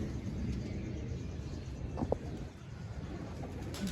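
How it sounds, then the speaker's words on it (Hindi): Soft pigeon cooing as pigeons land, rising over a quiet outdoor background, with a brief flutter or tap in the middle and low distant rumble underneath. "ये नार बैठ रहा है माशाल्लाह।"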